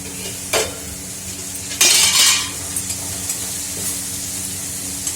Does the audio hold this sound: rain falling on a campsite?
no